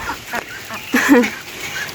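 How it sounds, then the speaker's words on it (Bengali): Ducklings in a village yard give a few faint, high peeping calls, short and scattered over two seconds against soft outdoor background noise. "দেখেন হাঁসের বাচ্চাগুলো অনেক ভালো লাগতেছে তাই না বন্ধুরা"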